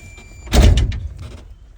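Driver door of a G-body Chevrolet Malibu opened, a single close, solid thunk and latch clunk followed by brief rattles.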